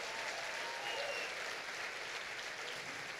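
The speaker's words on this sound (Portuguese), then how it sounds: "pode dar salva de palmas mesmo?" Church audience gives a steady, dense round of applause at a sermon, a continuous wash of clapping at moderate distance with no pauses throughout.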